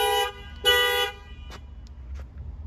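A 2016 Toyota Highlander's horn, set off from the remote key fob, gives two short, loud toots close by, followed by a few faint clicks and a low background hum.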